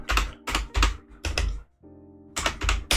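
Rapid keystrokes on a computer keyboard typing a command in a hacking walkthrough, with crisp bursts of clicks separated by a short pause, close and clear with no speech.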